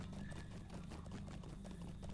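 Horse hooves clip-clopping during riding in the video game Lord of the Rings Online, a steady, even trot of dense hoofbeats at moderate loudness, continuous across the moment with no voice over it.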